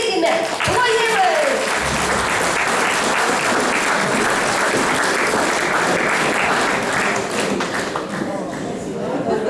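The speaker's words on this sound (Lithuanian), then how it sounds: "Pasitikime, plojimai!" Enthusiastic audience applause welcomes a humour group at a village cultural centre event, a dense, steady roar of many hands clapping that runs loud and continuous throughout, with a brief voice at the start.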